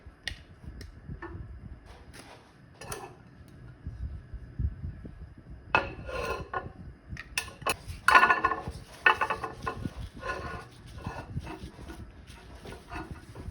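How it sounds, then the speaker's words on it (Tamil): A knife cutting an avocado for a green salad, a series of soft taps and knocks on a board with a louder cluster of clatter midway, fairly faint and close; no talking. "இப்போ வந்து அவகேடோவை நம்ம கட் பண்ணிக்கலாம்."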